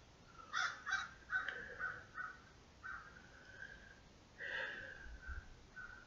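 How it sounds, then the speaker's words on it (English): A bird, identified as a hawk, calls outdoors in a series of short, harsh, cawing cries at moderate distance, two quick bursts followed by spaced calls and a final louder call, with no talking. "That's a hawk, in case you didn't hear that."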